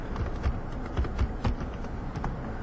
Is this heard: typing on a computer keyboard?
yes